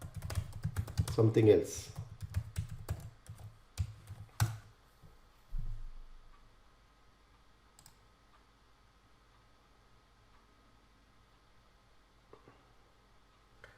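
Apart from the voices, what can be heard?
typing on a computer keyboard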